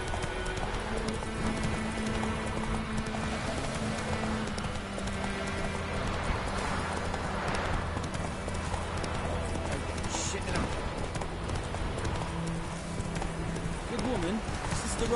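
Horse hooves clip-clop steadily in a PS4 video game, with an occasional whinny, under game music and a person talking.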